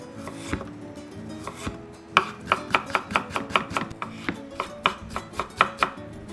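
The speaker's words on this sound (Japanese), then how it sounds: "皮を剥いて、で 薄切りにしていきます。" A knife thinly slices peeled ginger on a cutting board, starting with a few separate cuts and settling into a rapid, even run of crisp, close tapping chops with no talking.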